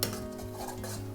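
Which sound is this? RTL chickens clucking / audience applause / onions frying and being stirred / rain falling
onions frying and being stirred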